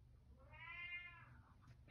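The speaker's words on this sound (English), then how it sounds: "I have a whiny cat." An indoor house cat gives a single whiny meow that rises and falls, close and fairly quiet, against a soft low background hum.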